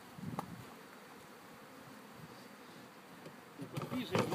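Honey bees buzz steadily during a package bee installation, a soft continuous hum that grows louder and busier near the end, with some handling knocks.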